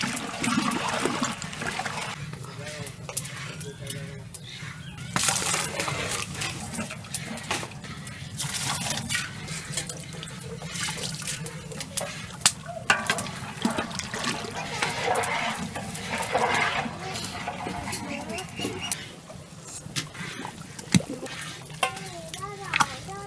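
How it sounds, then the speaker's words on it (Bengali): Milk heats in a pot for payesh, a sweet rice pudding, in a village kitchen, with a spoon stirring, liquid sloshing and a soft bubbling sizzle close by, and someone talking over much of it. "এর জন্য দুধ জাল দিতেছি।"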